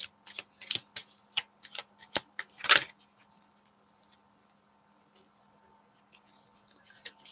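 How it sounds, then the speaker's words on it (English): Tarot cards from a Romance Angels deck being shuffled, a series of crisp dry riffles and flicks close up, busy at first and then thinning to a few sparse taps. "let me just shuffle again on their thoughts and feelings from the Romance Angels deck"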